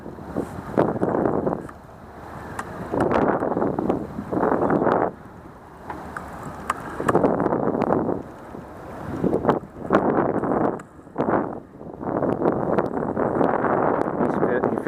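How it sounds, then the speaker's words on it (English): Chilly wind at a pond while catfish fishing buffets the microphone in loud, rumbling gusts that come and go throughout, with people talking in between. "This wind is getting nippy."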